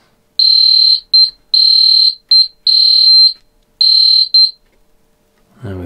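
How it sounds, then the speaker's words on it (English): Lowrance X-4 LCG fish finder sonar unit sounding its zone alarm: loud, high electronic beeps in an uneven pattern of long tones and short double pips, then a brief low rumble at the end. "So that's your Zone alarm, isn't it, I guess?"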